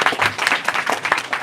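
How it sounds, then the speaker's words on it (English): A summit audience clapping, a short, loud burst of irregular close claps lasting just over a second. "We can clap."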